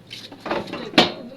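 Pots and pans shifted on a kitchen stove while it is being cleaned, with a few soft metallic knocks and a sharper clank close by, all in a quick burst.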